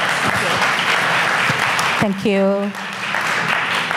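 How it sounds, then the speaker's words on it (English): A welcoming round of applause for an artist at a conversation café: loud, continuous audience clapping throughout, with someone briefly speaking over it midway. "Please give her a big round of applause."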